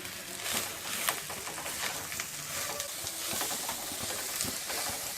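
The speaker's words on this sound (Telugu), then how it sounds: "వేసి ఒకసారి కలుపుకుందాం" Spring onion egg curry is stirred in a hot pan just after salt goes in, a steady close sizzle and frying hiss with scraping stir strokes running throughout, no voices.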